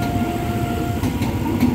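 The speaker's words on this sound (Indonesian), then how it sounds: "Ini kereta bandaranya menuju Bandara Soekarno-Hatta" An airport train to Soekarno-Hatta Airport rumbles steadily past at close range near a level crossing by Poris Station, Tangerang, a broad low roar with a faint high whine fading partway through.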